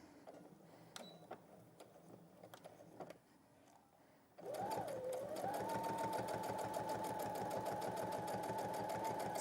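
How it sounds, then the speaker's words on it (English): A sewing machine stitches close along a fabric edge, first in quieter intermittent bursts, then starting up into a loud, steady, rapid mechanical run with a rising motor whine that continues to the end. "so I'm just sewing along the edge, very close to the edge"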